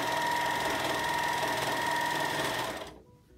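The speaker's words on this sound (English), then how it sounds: "So I'm just gonna serge the short ends." A serger overlocks the short ends of PUL fabric, its steady high-speed whirring running continuously and close by before stopping abruptly near the end.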